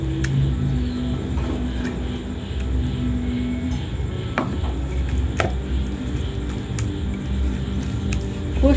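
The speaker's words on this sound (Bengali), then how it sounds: "পেঁয়াজটা দিয়ে একসাথে চটকিয়ে নিচ্ছি এবার পটলটা দিয়ে আমি চটকিয়ে নিচ্ছি" Roasted pointed gourd (potol) is mashed by hand with onion for bharta, giving soft, wet squishing and occasional sharp taps in a home kitchen, steady and close, with a low background hum and no speech.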